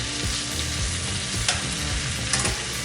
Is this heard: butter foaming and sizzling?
yes